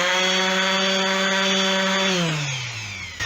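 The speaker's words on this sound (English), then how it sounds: "So I'm just sanding this nice and flat." A power sander flattening wood for an electric guitar build, fixing bandsaw marks, runs with a steady loud motor whine and gritty rubbing, then spins down and trails off near the end.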